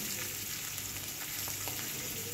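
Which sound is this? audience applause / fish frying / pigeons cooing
fish frying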